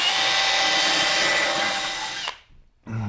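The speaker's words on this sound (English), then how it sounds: "And I'm going to put a few screws in this." A power drill drives screws into a wooden sawhorse, a loud continuous whine for about two seconds that cuts off abruptly, followed by a brief knock.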